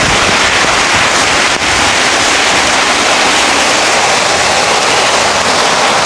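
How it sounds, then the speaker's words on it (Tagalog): Heavy rain pours on a dwarf coconut farm as a loud, dense, continuous hiss that stays steady throughout, with no talking. "Ayan ang ulan."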